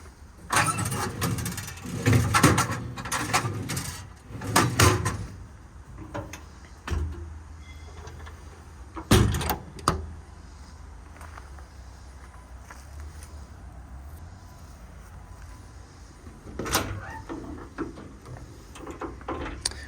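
Metal storage drawers in a compartment on a 2018 Ford F-450 crane service truck body slide open and shut, with several sharp clacks and rattles in bursts, loud and close, and quieter stretches in between.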